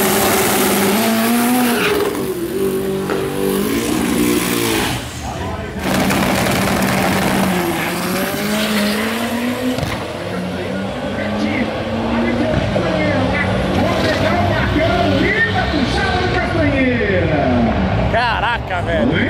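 A Chevrolet Chevette drag car accelerates hard down the strip at a drag racing event, a loud, sustained engine roar climbing through the gears, with crowd noise and voices mixed underneath.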